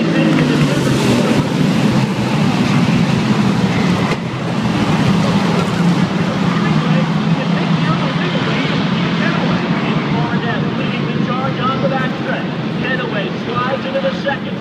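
Race cars roar around the track at Thompson during the April 2013 Icebreaker event, a steady loud engine drone filling the whole stretch while a commentator talks over it.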